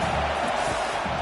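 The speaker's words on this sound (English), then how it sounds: "Here comes this home crowd as the defense tries to get off the field on 3rd down." A home crowd at a simulated college football game roars in a continuous loud wash of cheering and noise across the whole moment.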